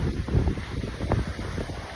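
Strong wind gusting on North Beach, a loud uneven buffeting rumble against the microphone that swells and fades over a couple of seconds, with no voices.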